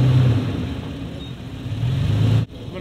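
A 4x4 engine revs and strains close by as the vehicle climbs onto black and blue recovery boards at a near-vertical shelf, a sustained drone that swells and then drops off abruptly near the end.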